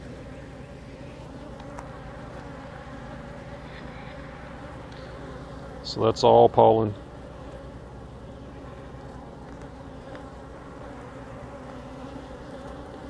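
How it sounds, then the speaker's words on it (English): Honeybees fly around an open hive during a cloudy-day inspection, a steady low buzzing hum running throughout, with someone speaking briefly in the middle. "There are a lot of bees flying though."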